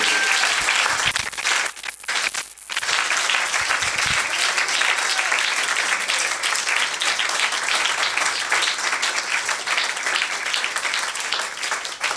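A large crowd claps and cheers steadily throughout a Pentecostal church Sunday service, with a brief dip in the applause early on.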